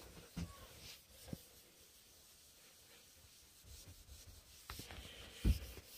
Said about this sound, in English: We're going to rub it in with a cloth to start with